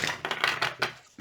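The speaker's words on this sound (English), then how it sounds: "One more shuffle will do it." Tarot cards being shuffled by hand in a few quick riffling bursts, close and crisp, with a voice speaking around them.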